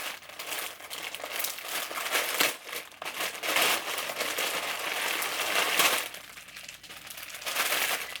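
Plastic Amazon packaging bag being handled up close, crinkling and rustling continuously in uneven bursts with brief pauses, fairly loud and with no talking.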